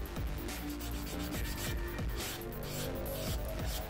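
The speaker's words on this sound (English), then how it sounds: "So we're going to sand all that out just to try to make sure it's nice and flat and smooth" A plastic seam line being sanded flat and smooth, giving a continuous close rubbing rasp with a steady, even level for a few seconds and no talk.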